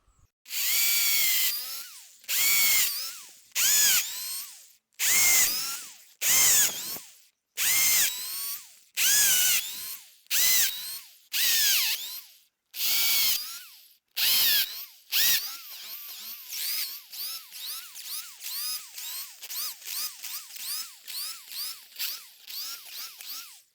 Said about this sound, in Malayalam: എല്ലായിടത്തും നമുക്ക് ഓരോ ഹോൾ ചെയ്തെടുക്കാം